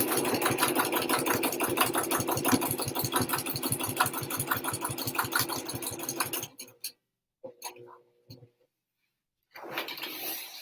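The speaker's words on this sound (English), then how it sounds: "Stitching at a 3mm." A sewing machine stitches fabric at a 3 mm stitch length with a fast, steady mechanical chatter for about six seconds. It then stops, followed by a few faint clicks, a silent gap and a brief resumption.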